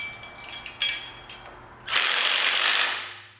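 Lock nuts on a monster truck pinion brake rotor are snugged down with a hand ratchet. A few crisp, close ratcheting clicks are followed by a louder rasping burst that fades out, with no talking.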